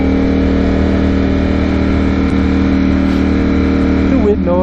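A 2021 Ducati Streetfighter V4S motorcycle engine running loud and steady at speed, with a quick-shifter gear change near the end. Wind noise is mixed in, and a rider talks over it.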